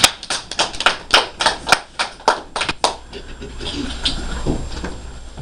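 A class claps for a student in a burst of about a dozen sharp, uneven claps lasting around three seconds, then fading into room murmur with faint voices.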